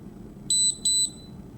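A contactless card reader at a point-of-sale terminal gives two short, bright electronic beeps in quick succession during a payment transaction, clear above a low background hum.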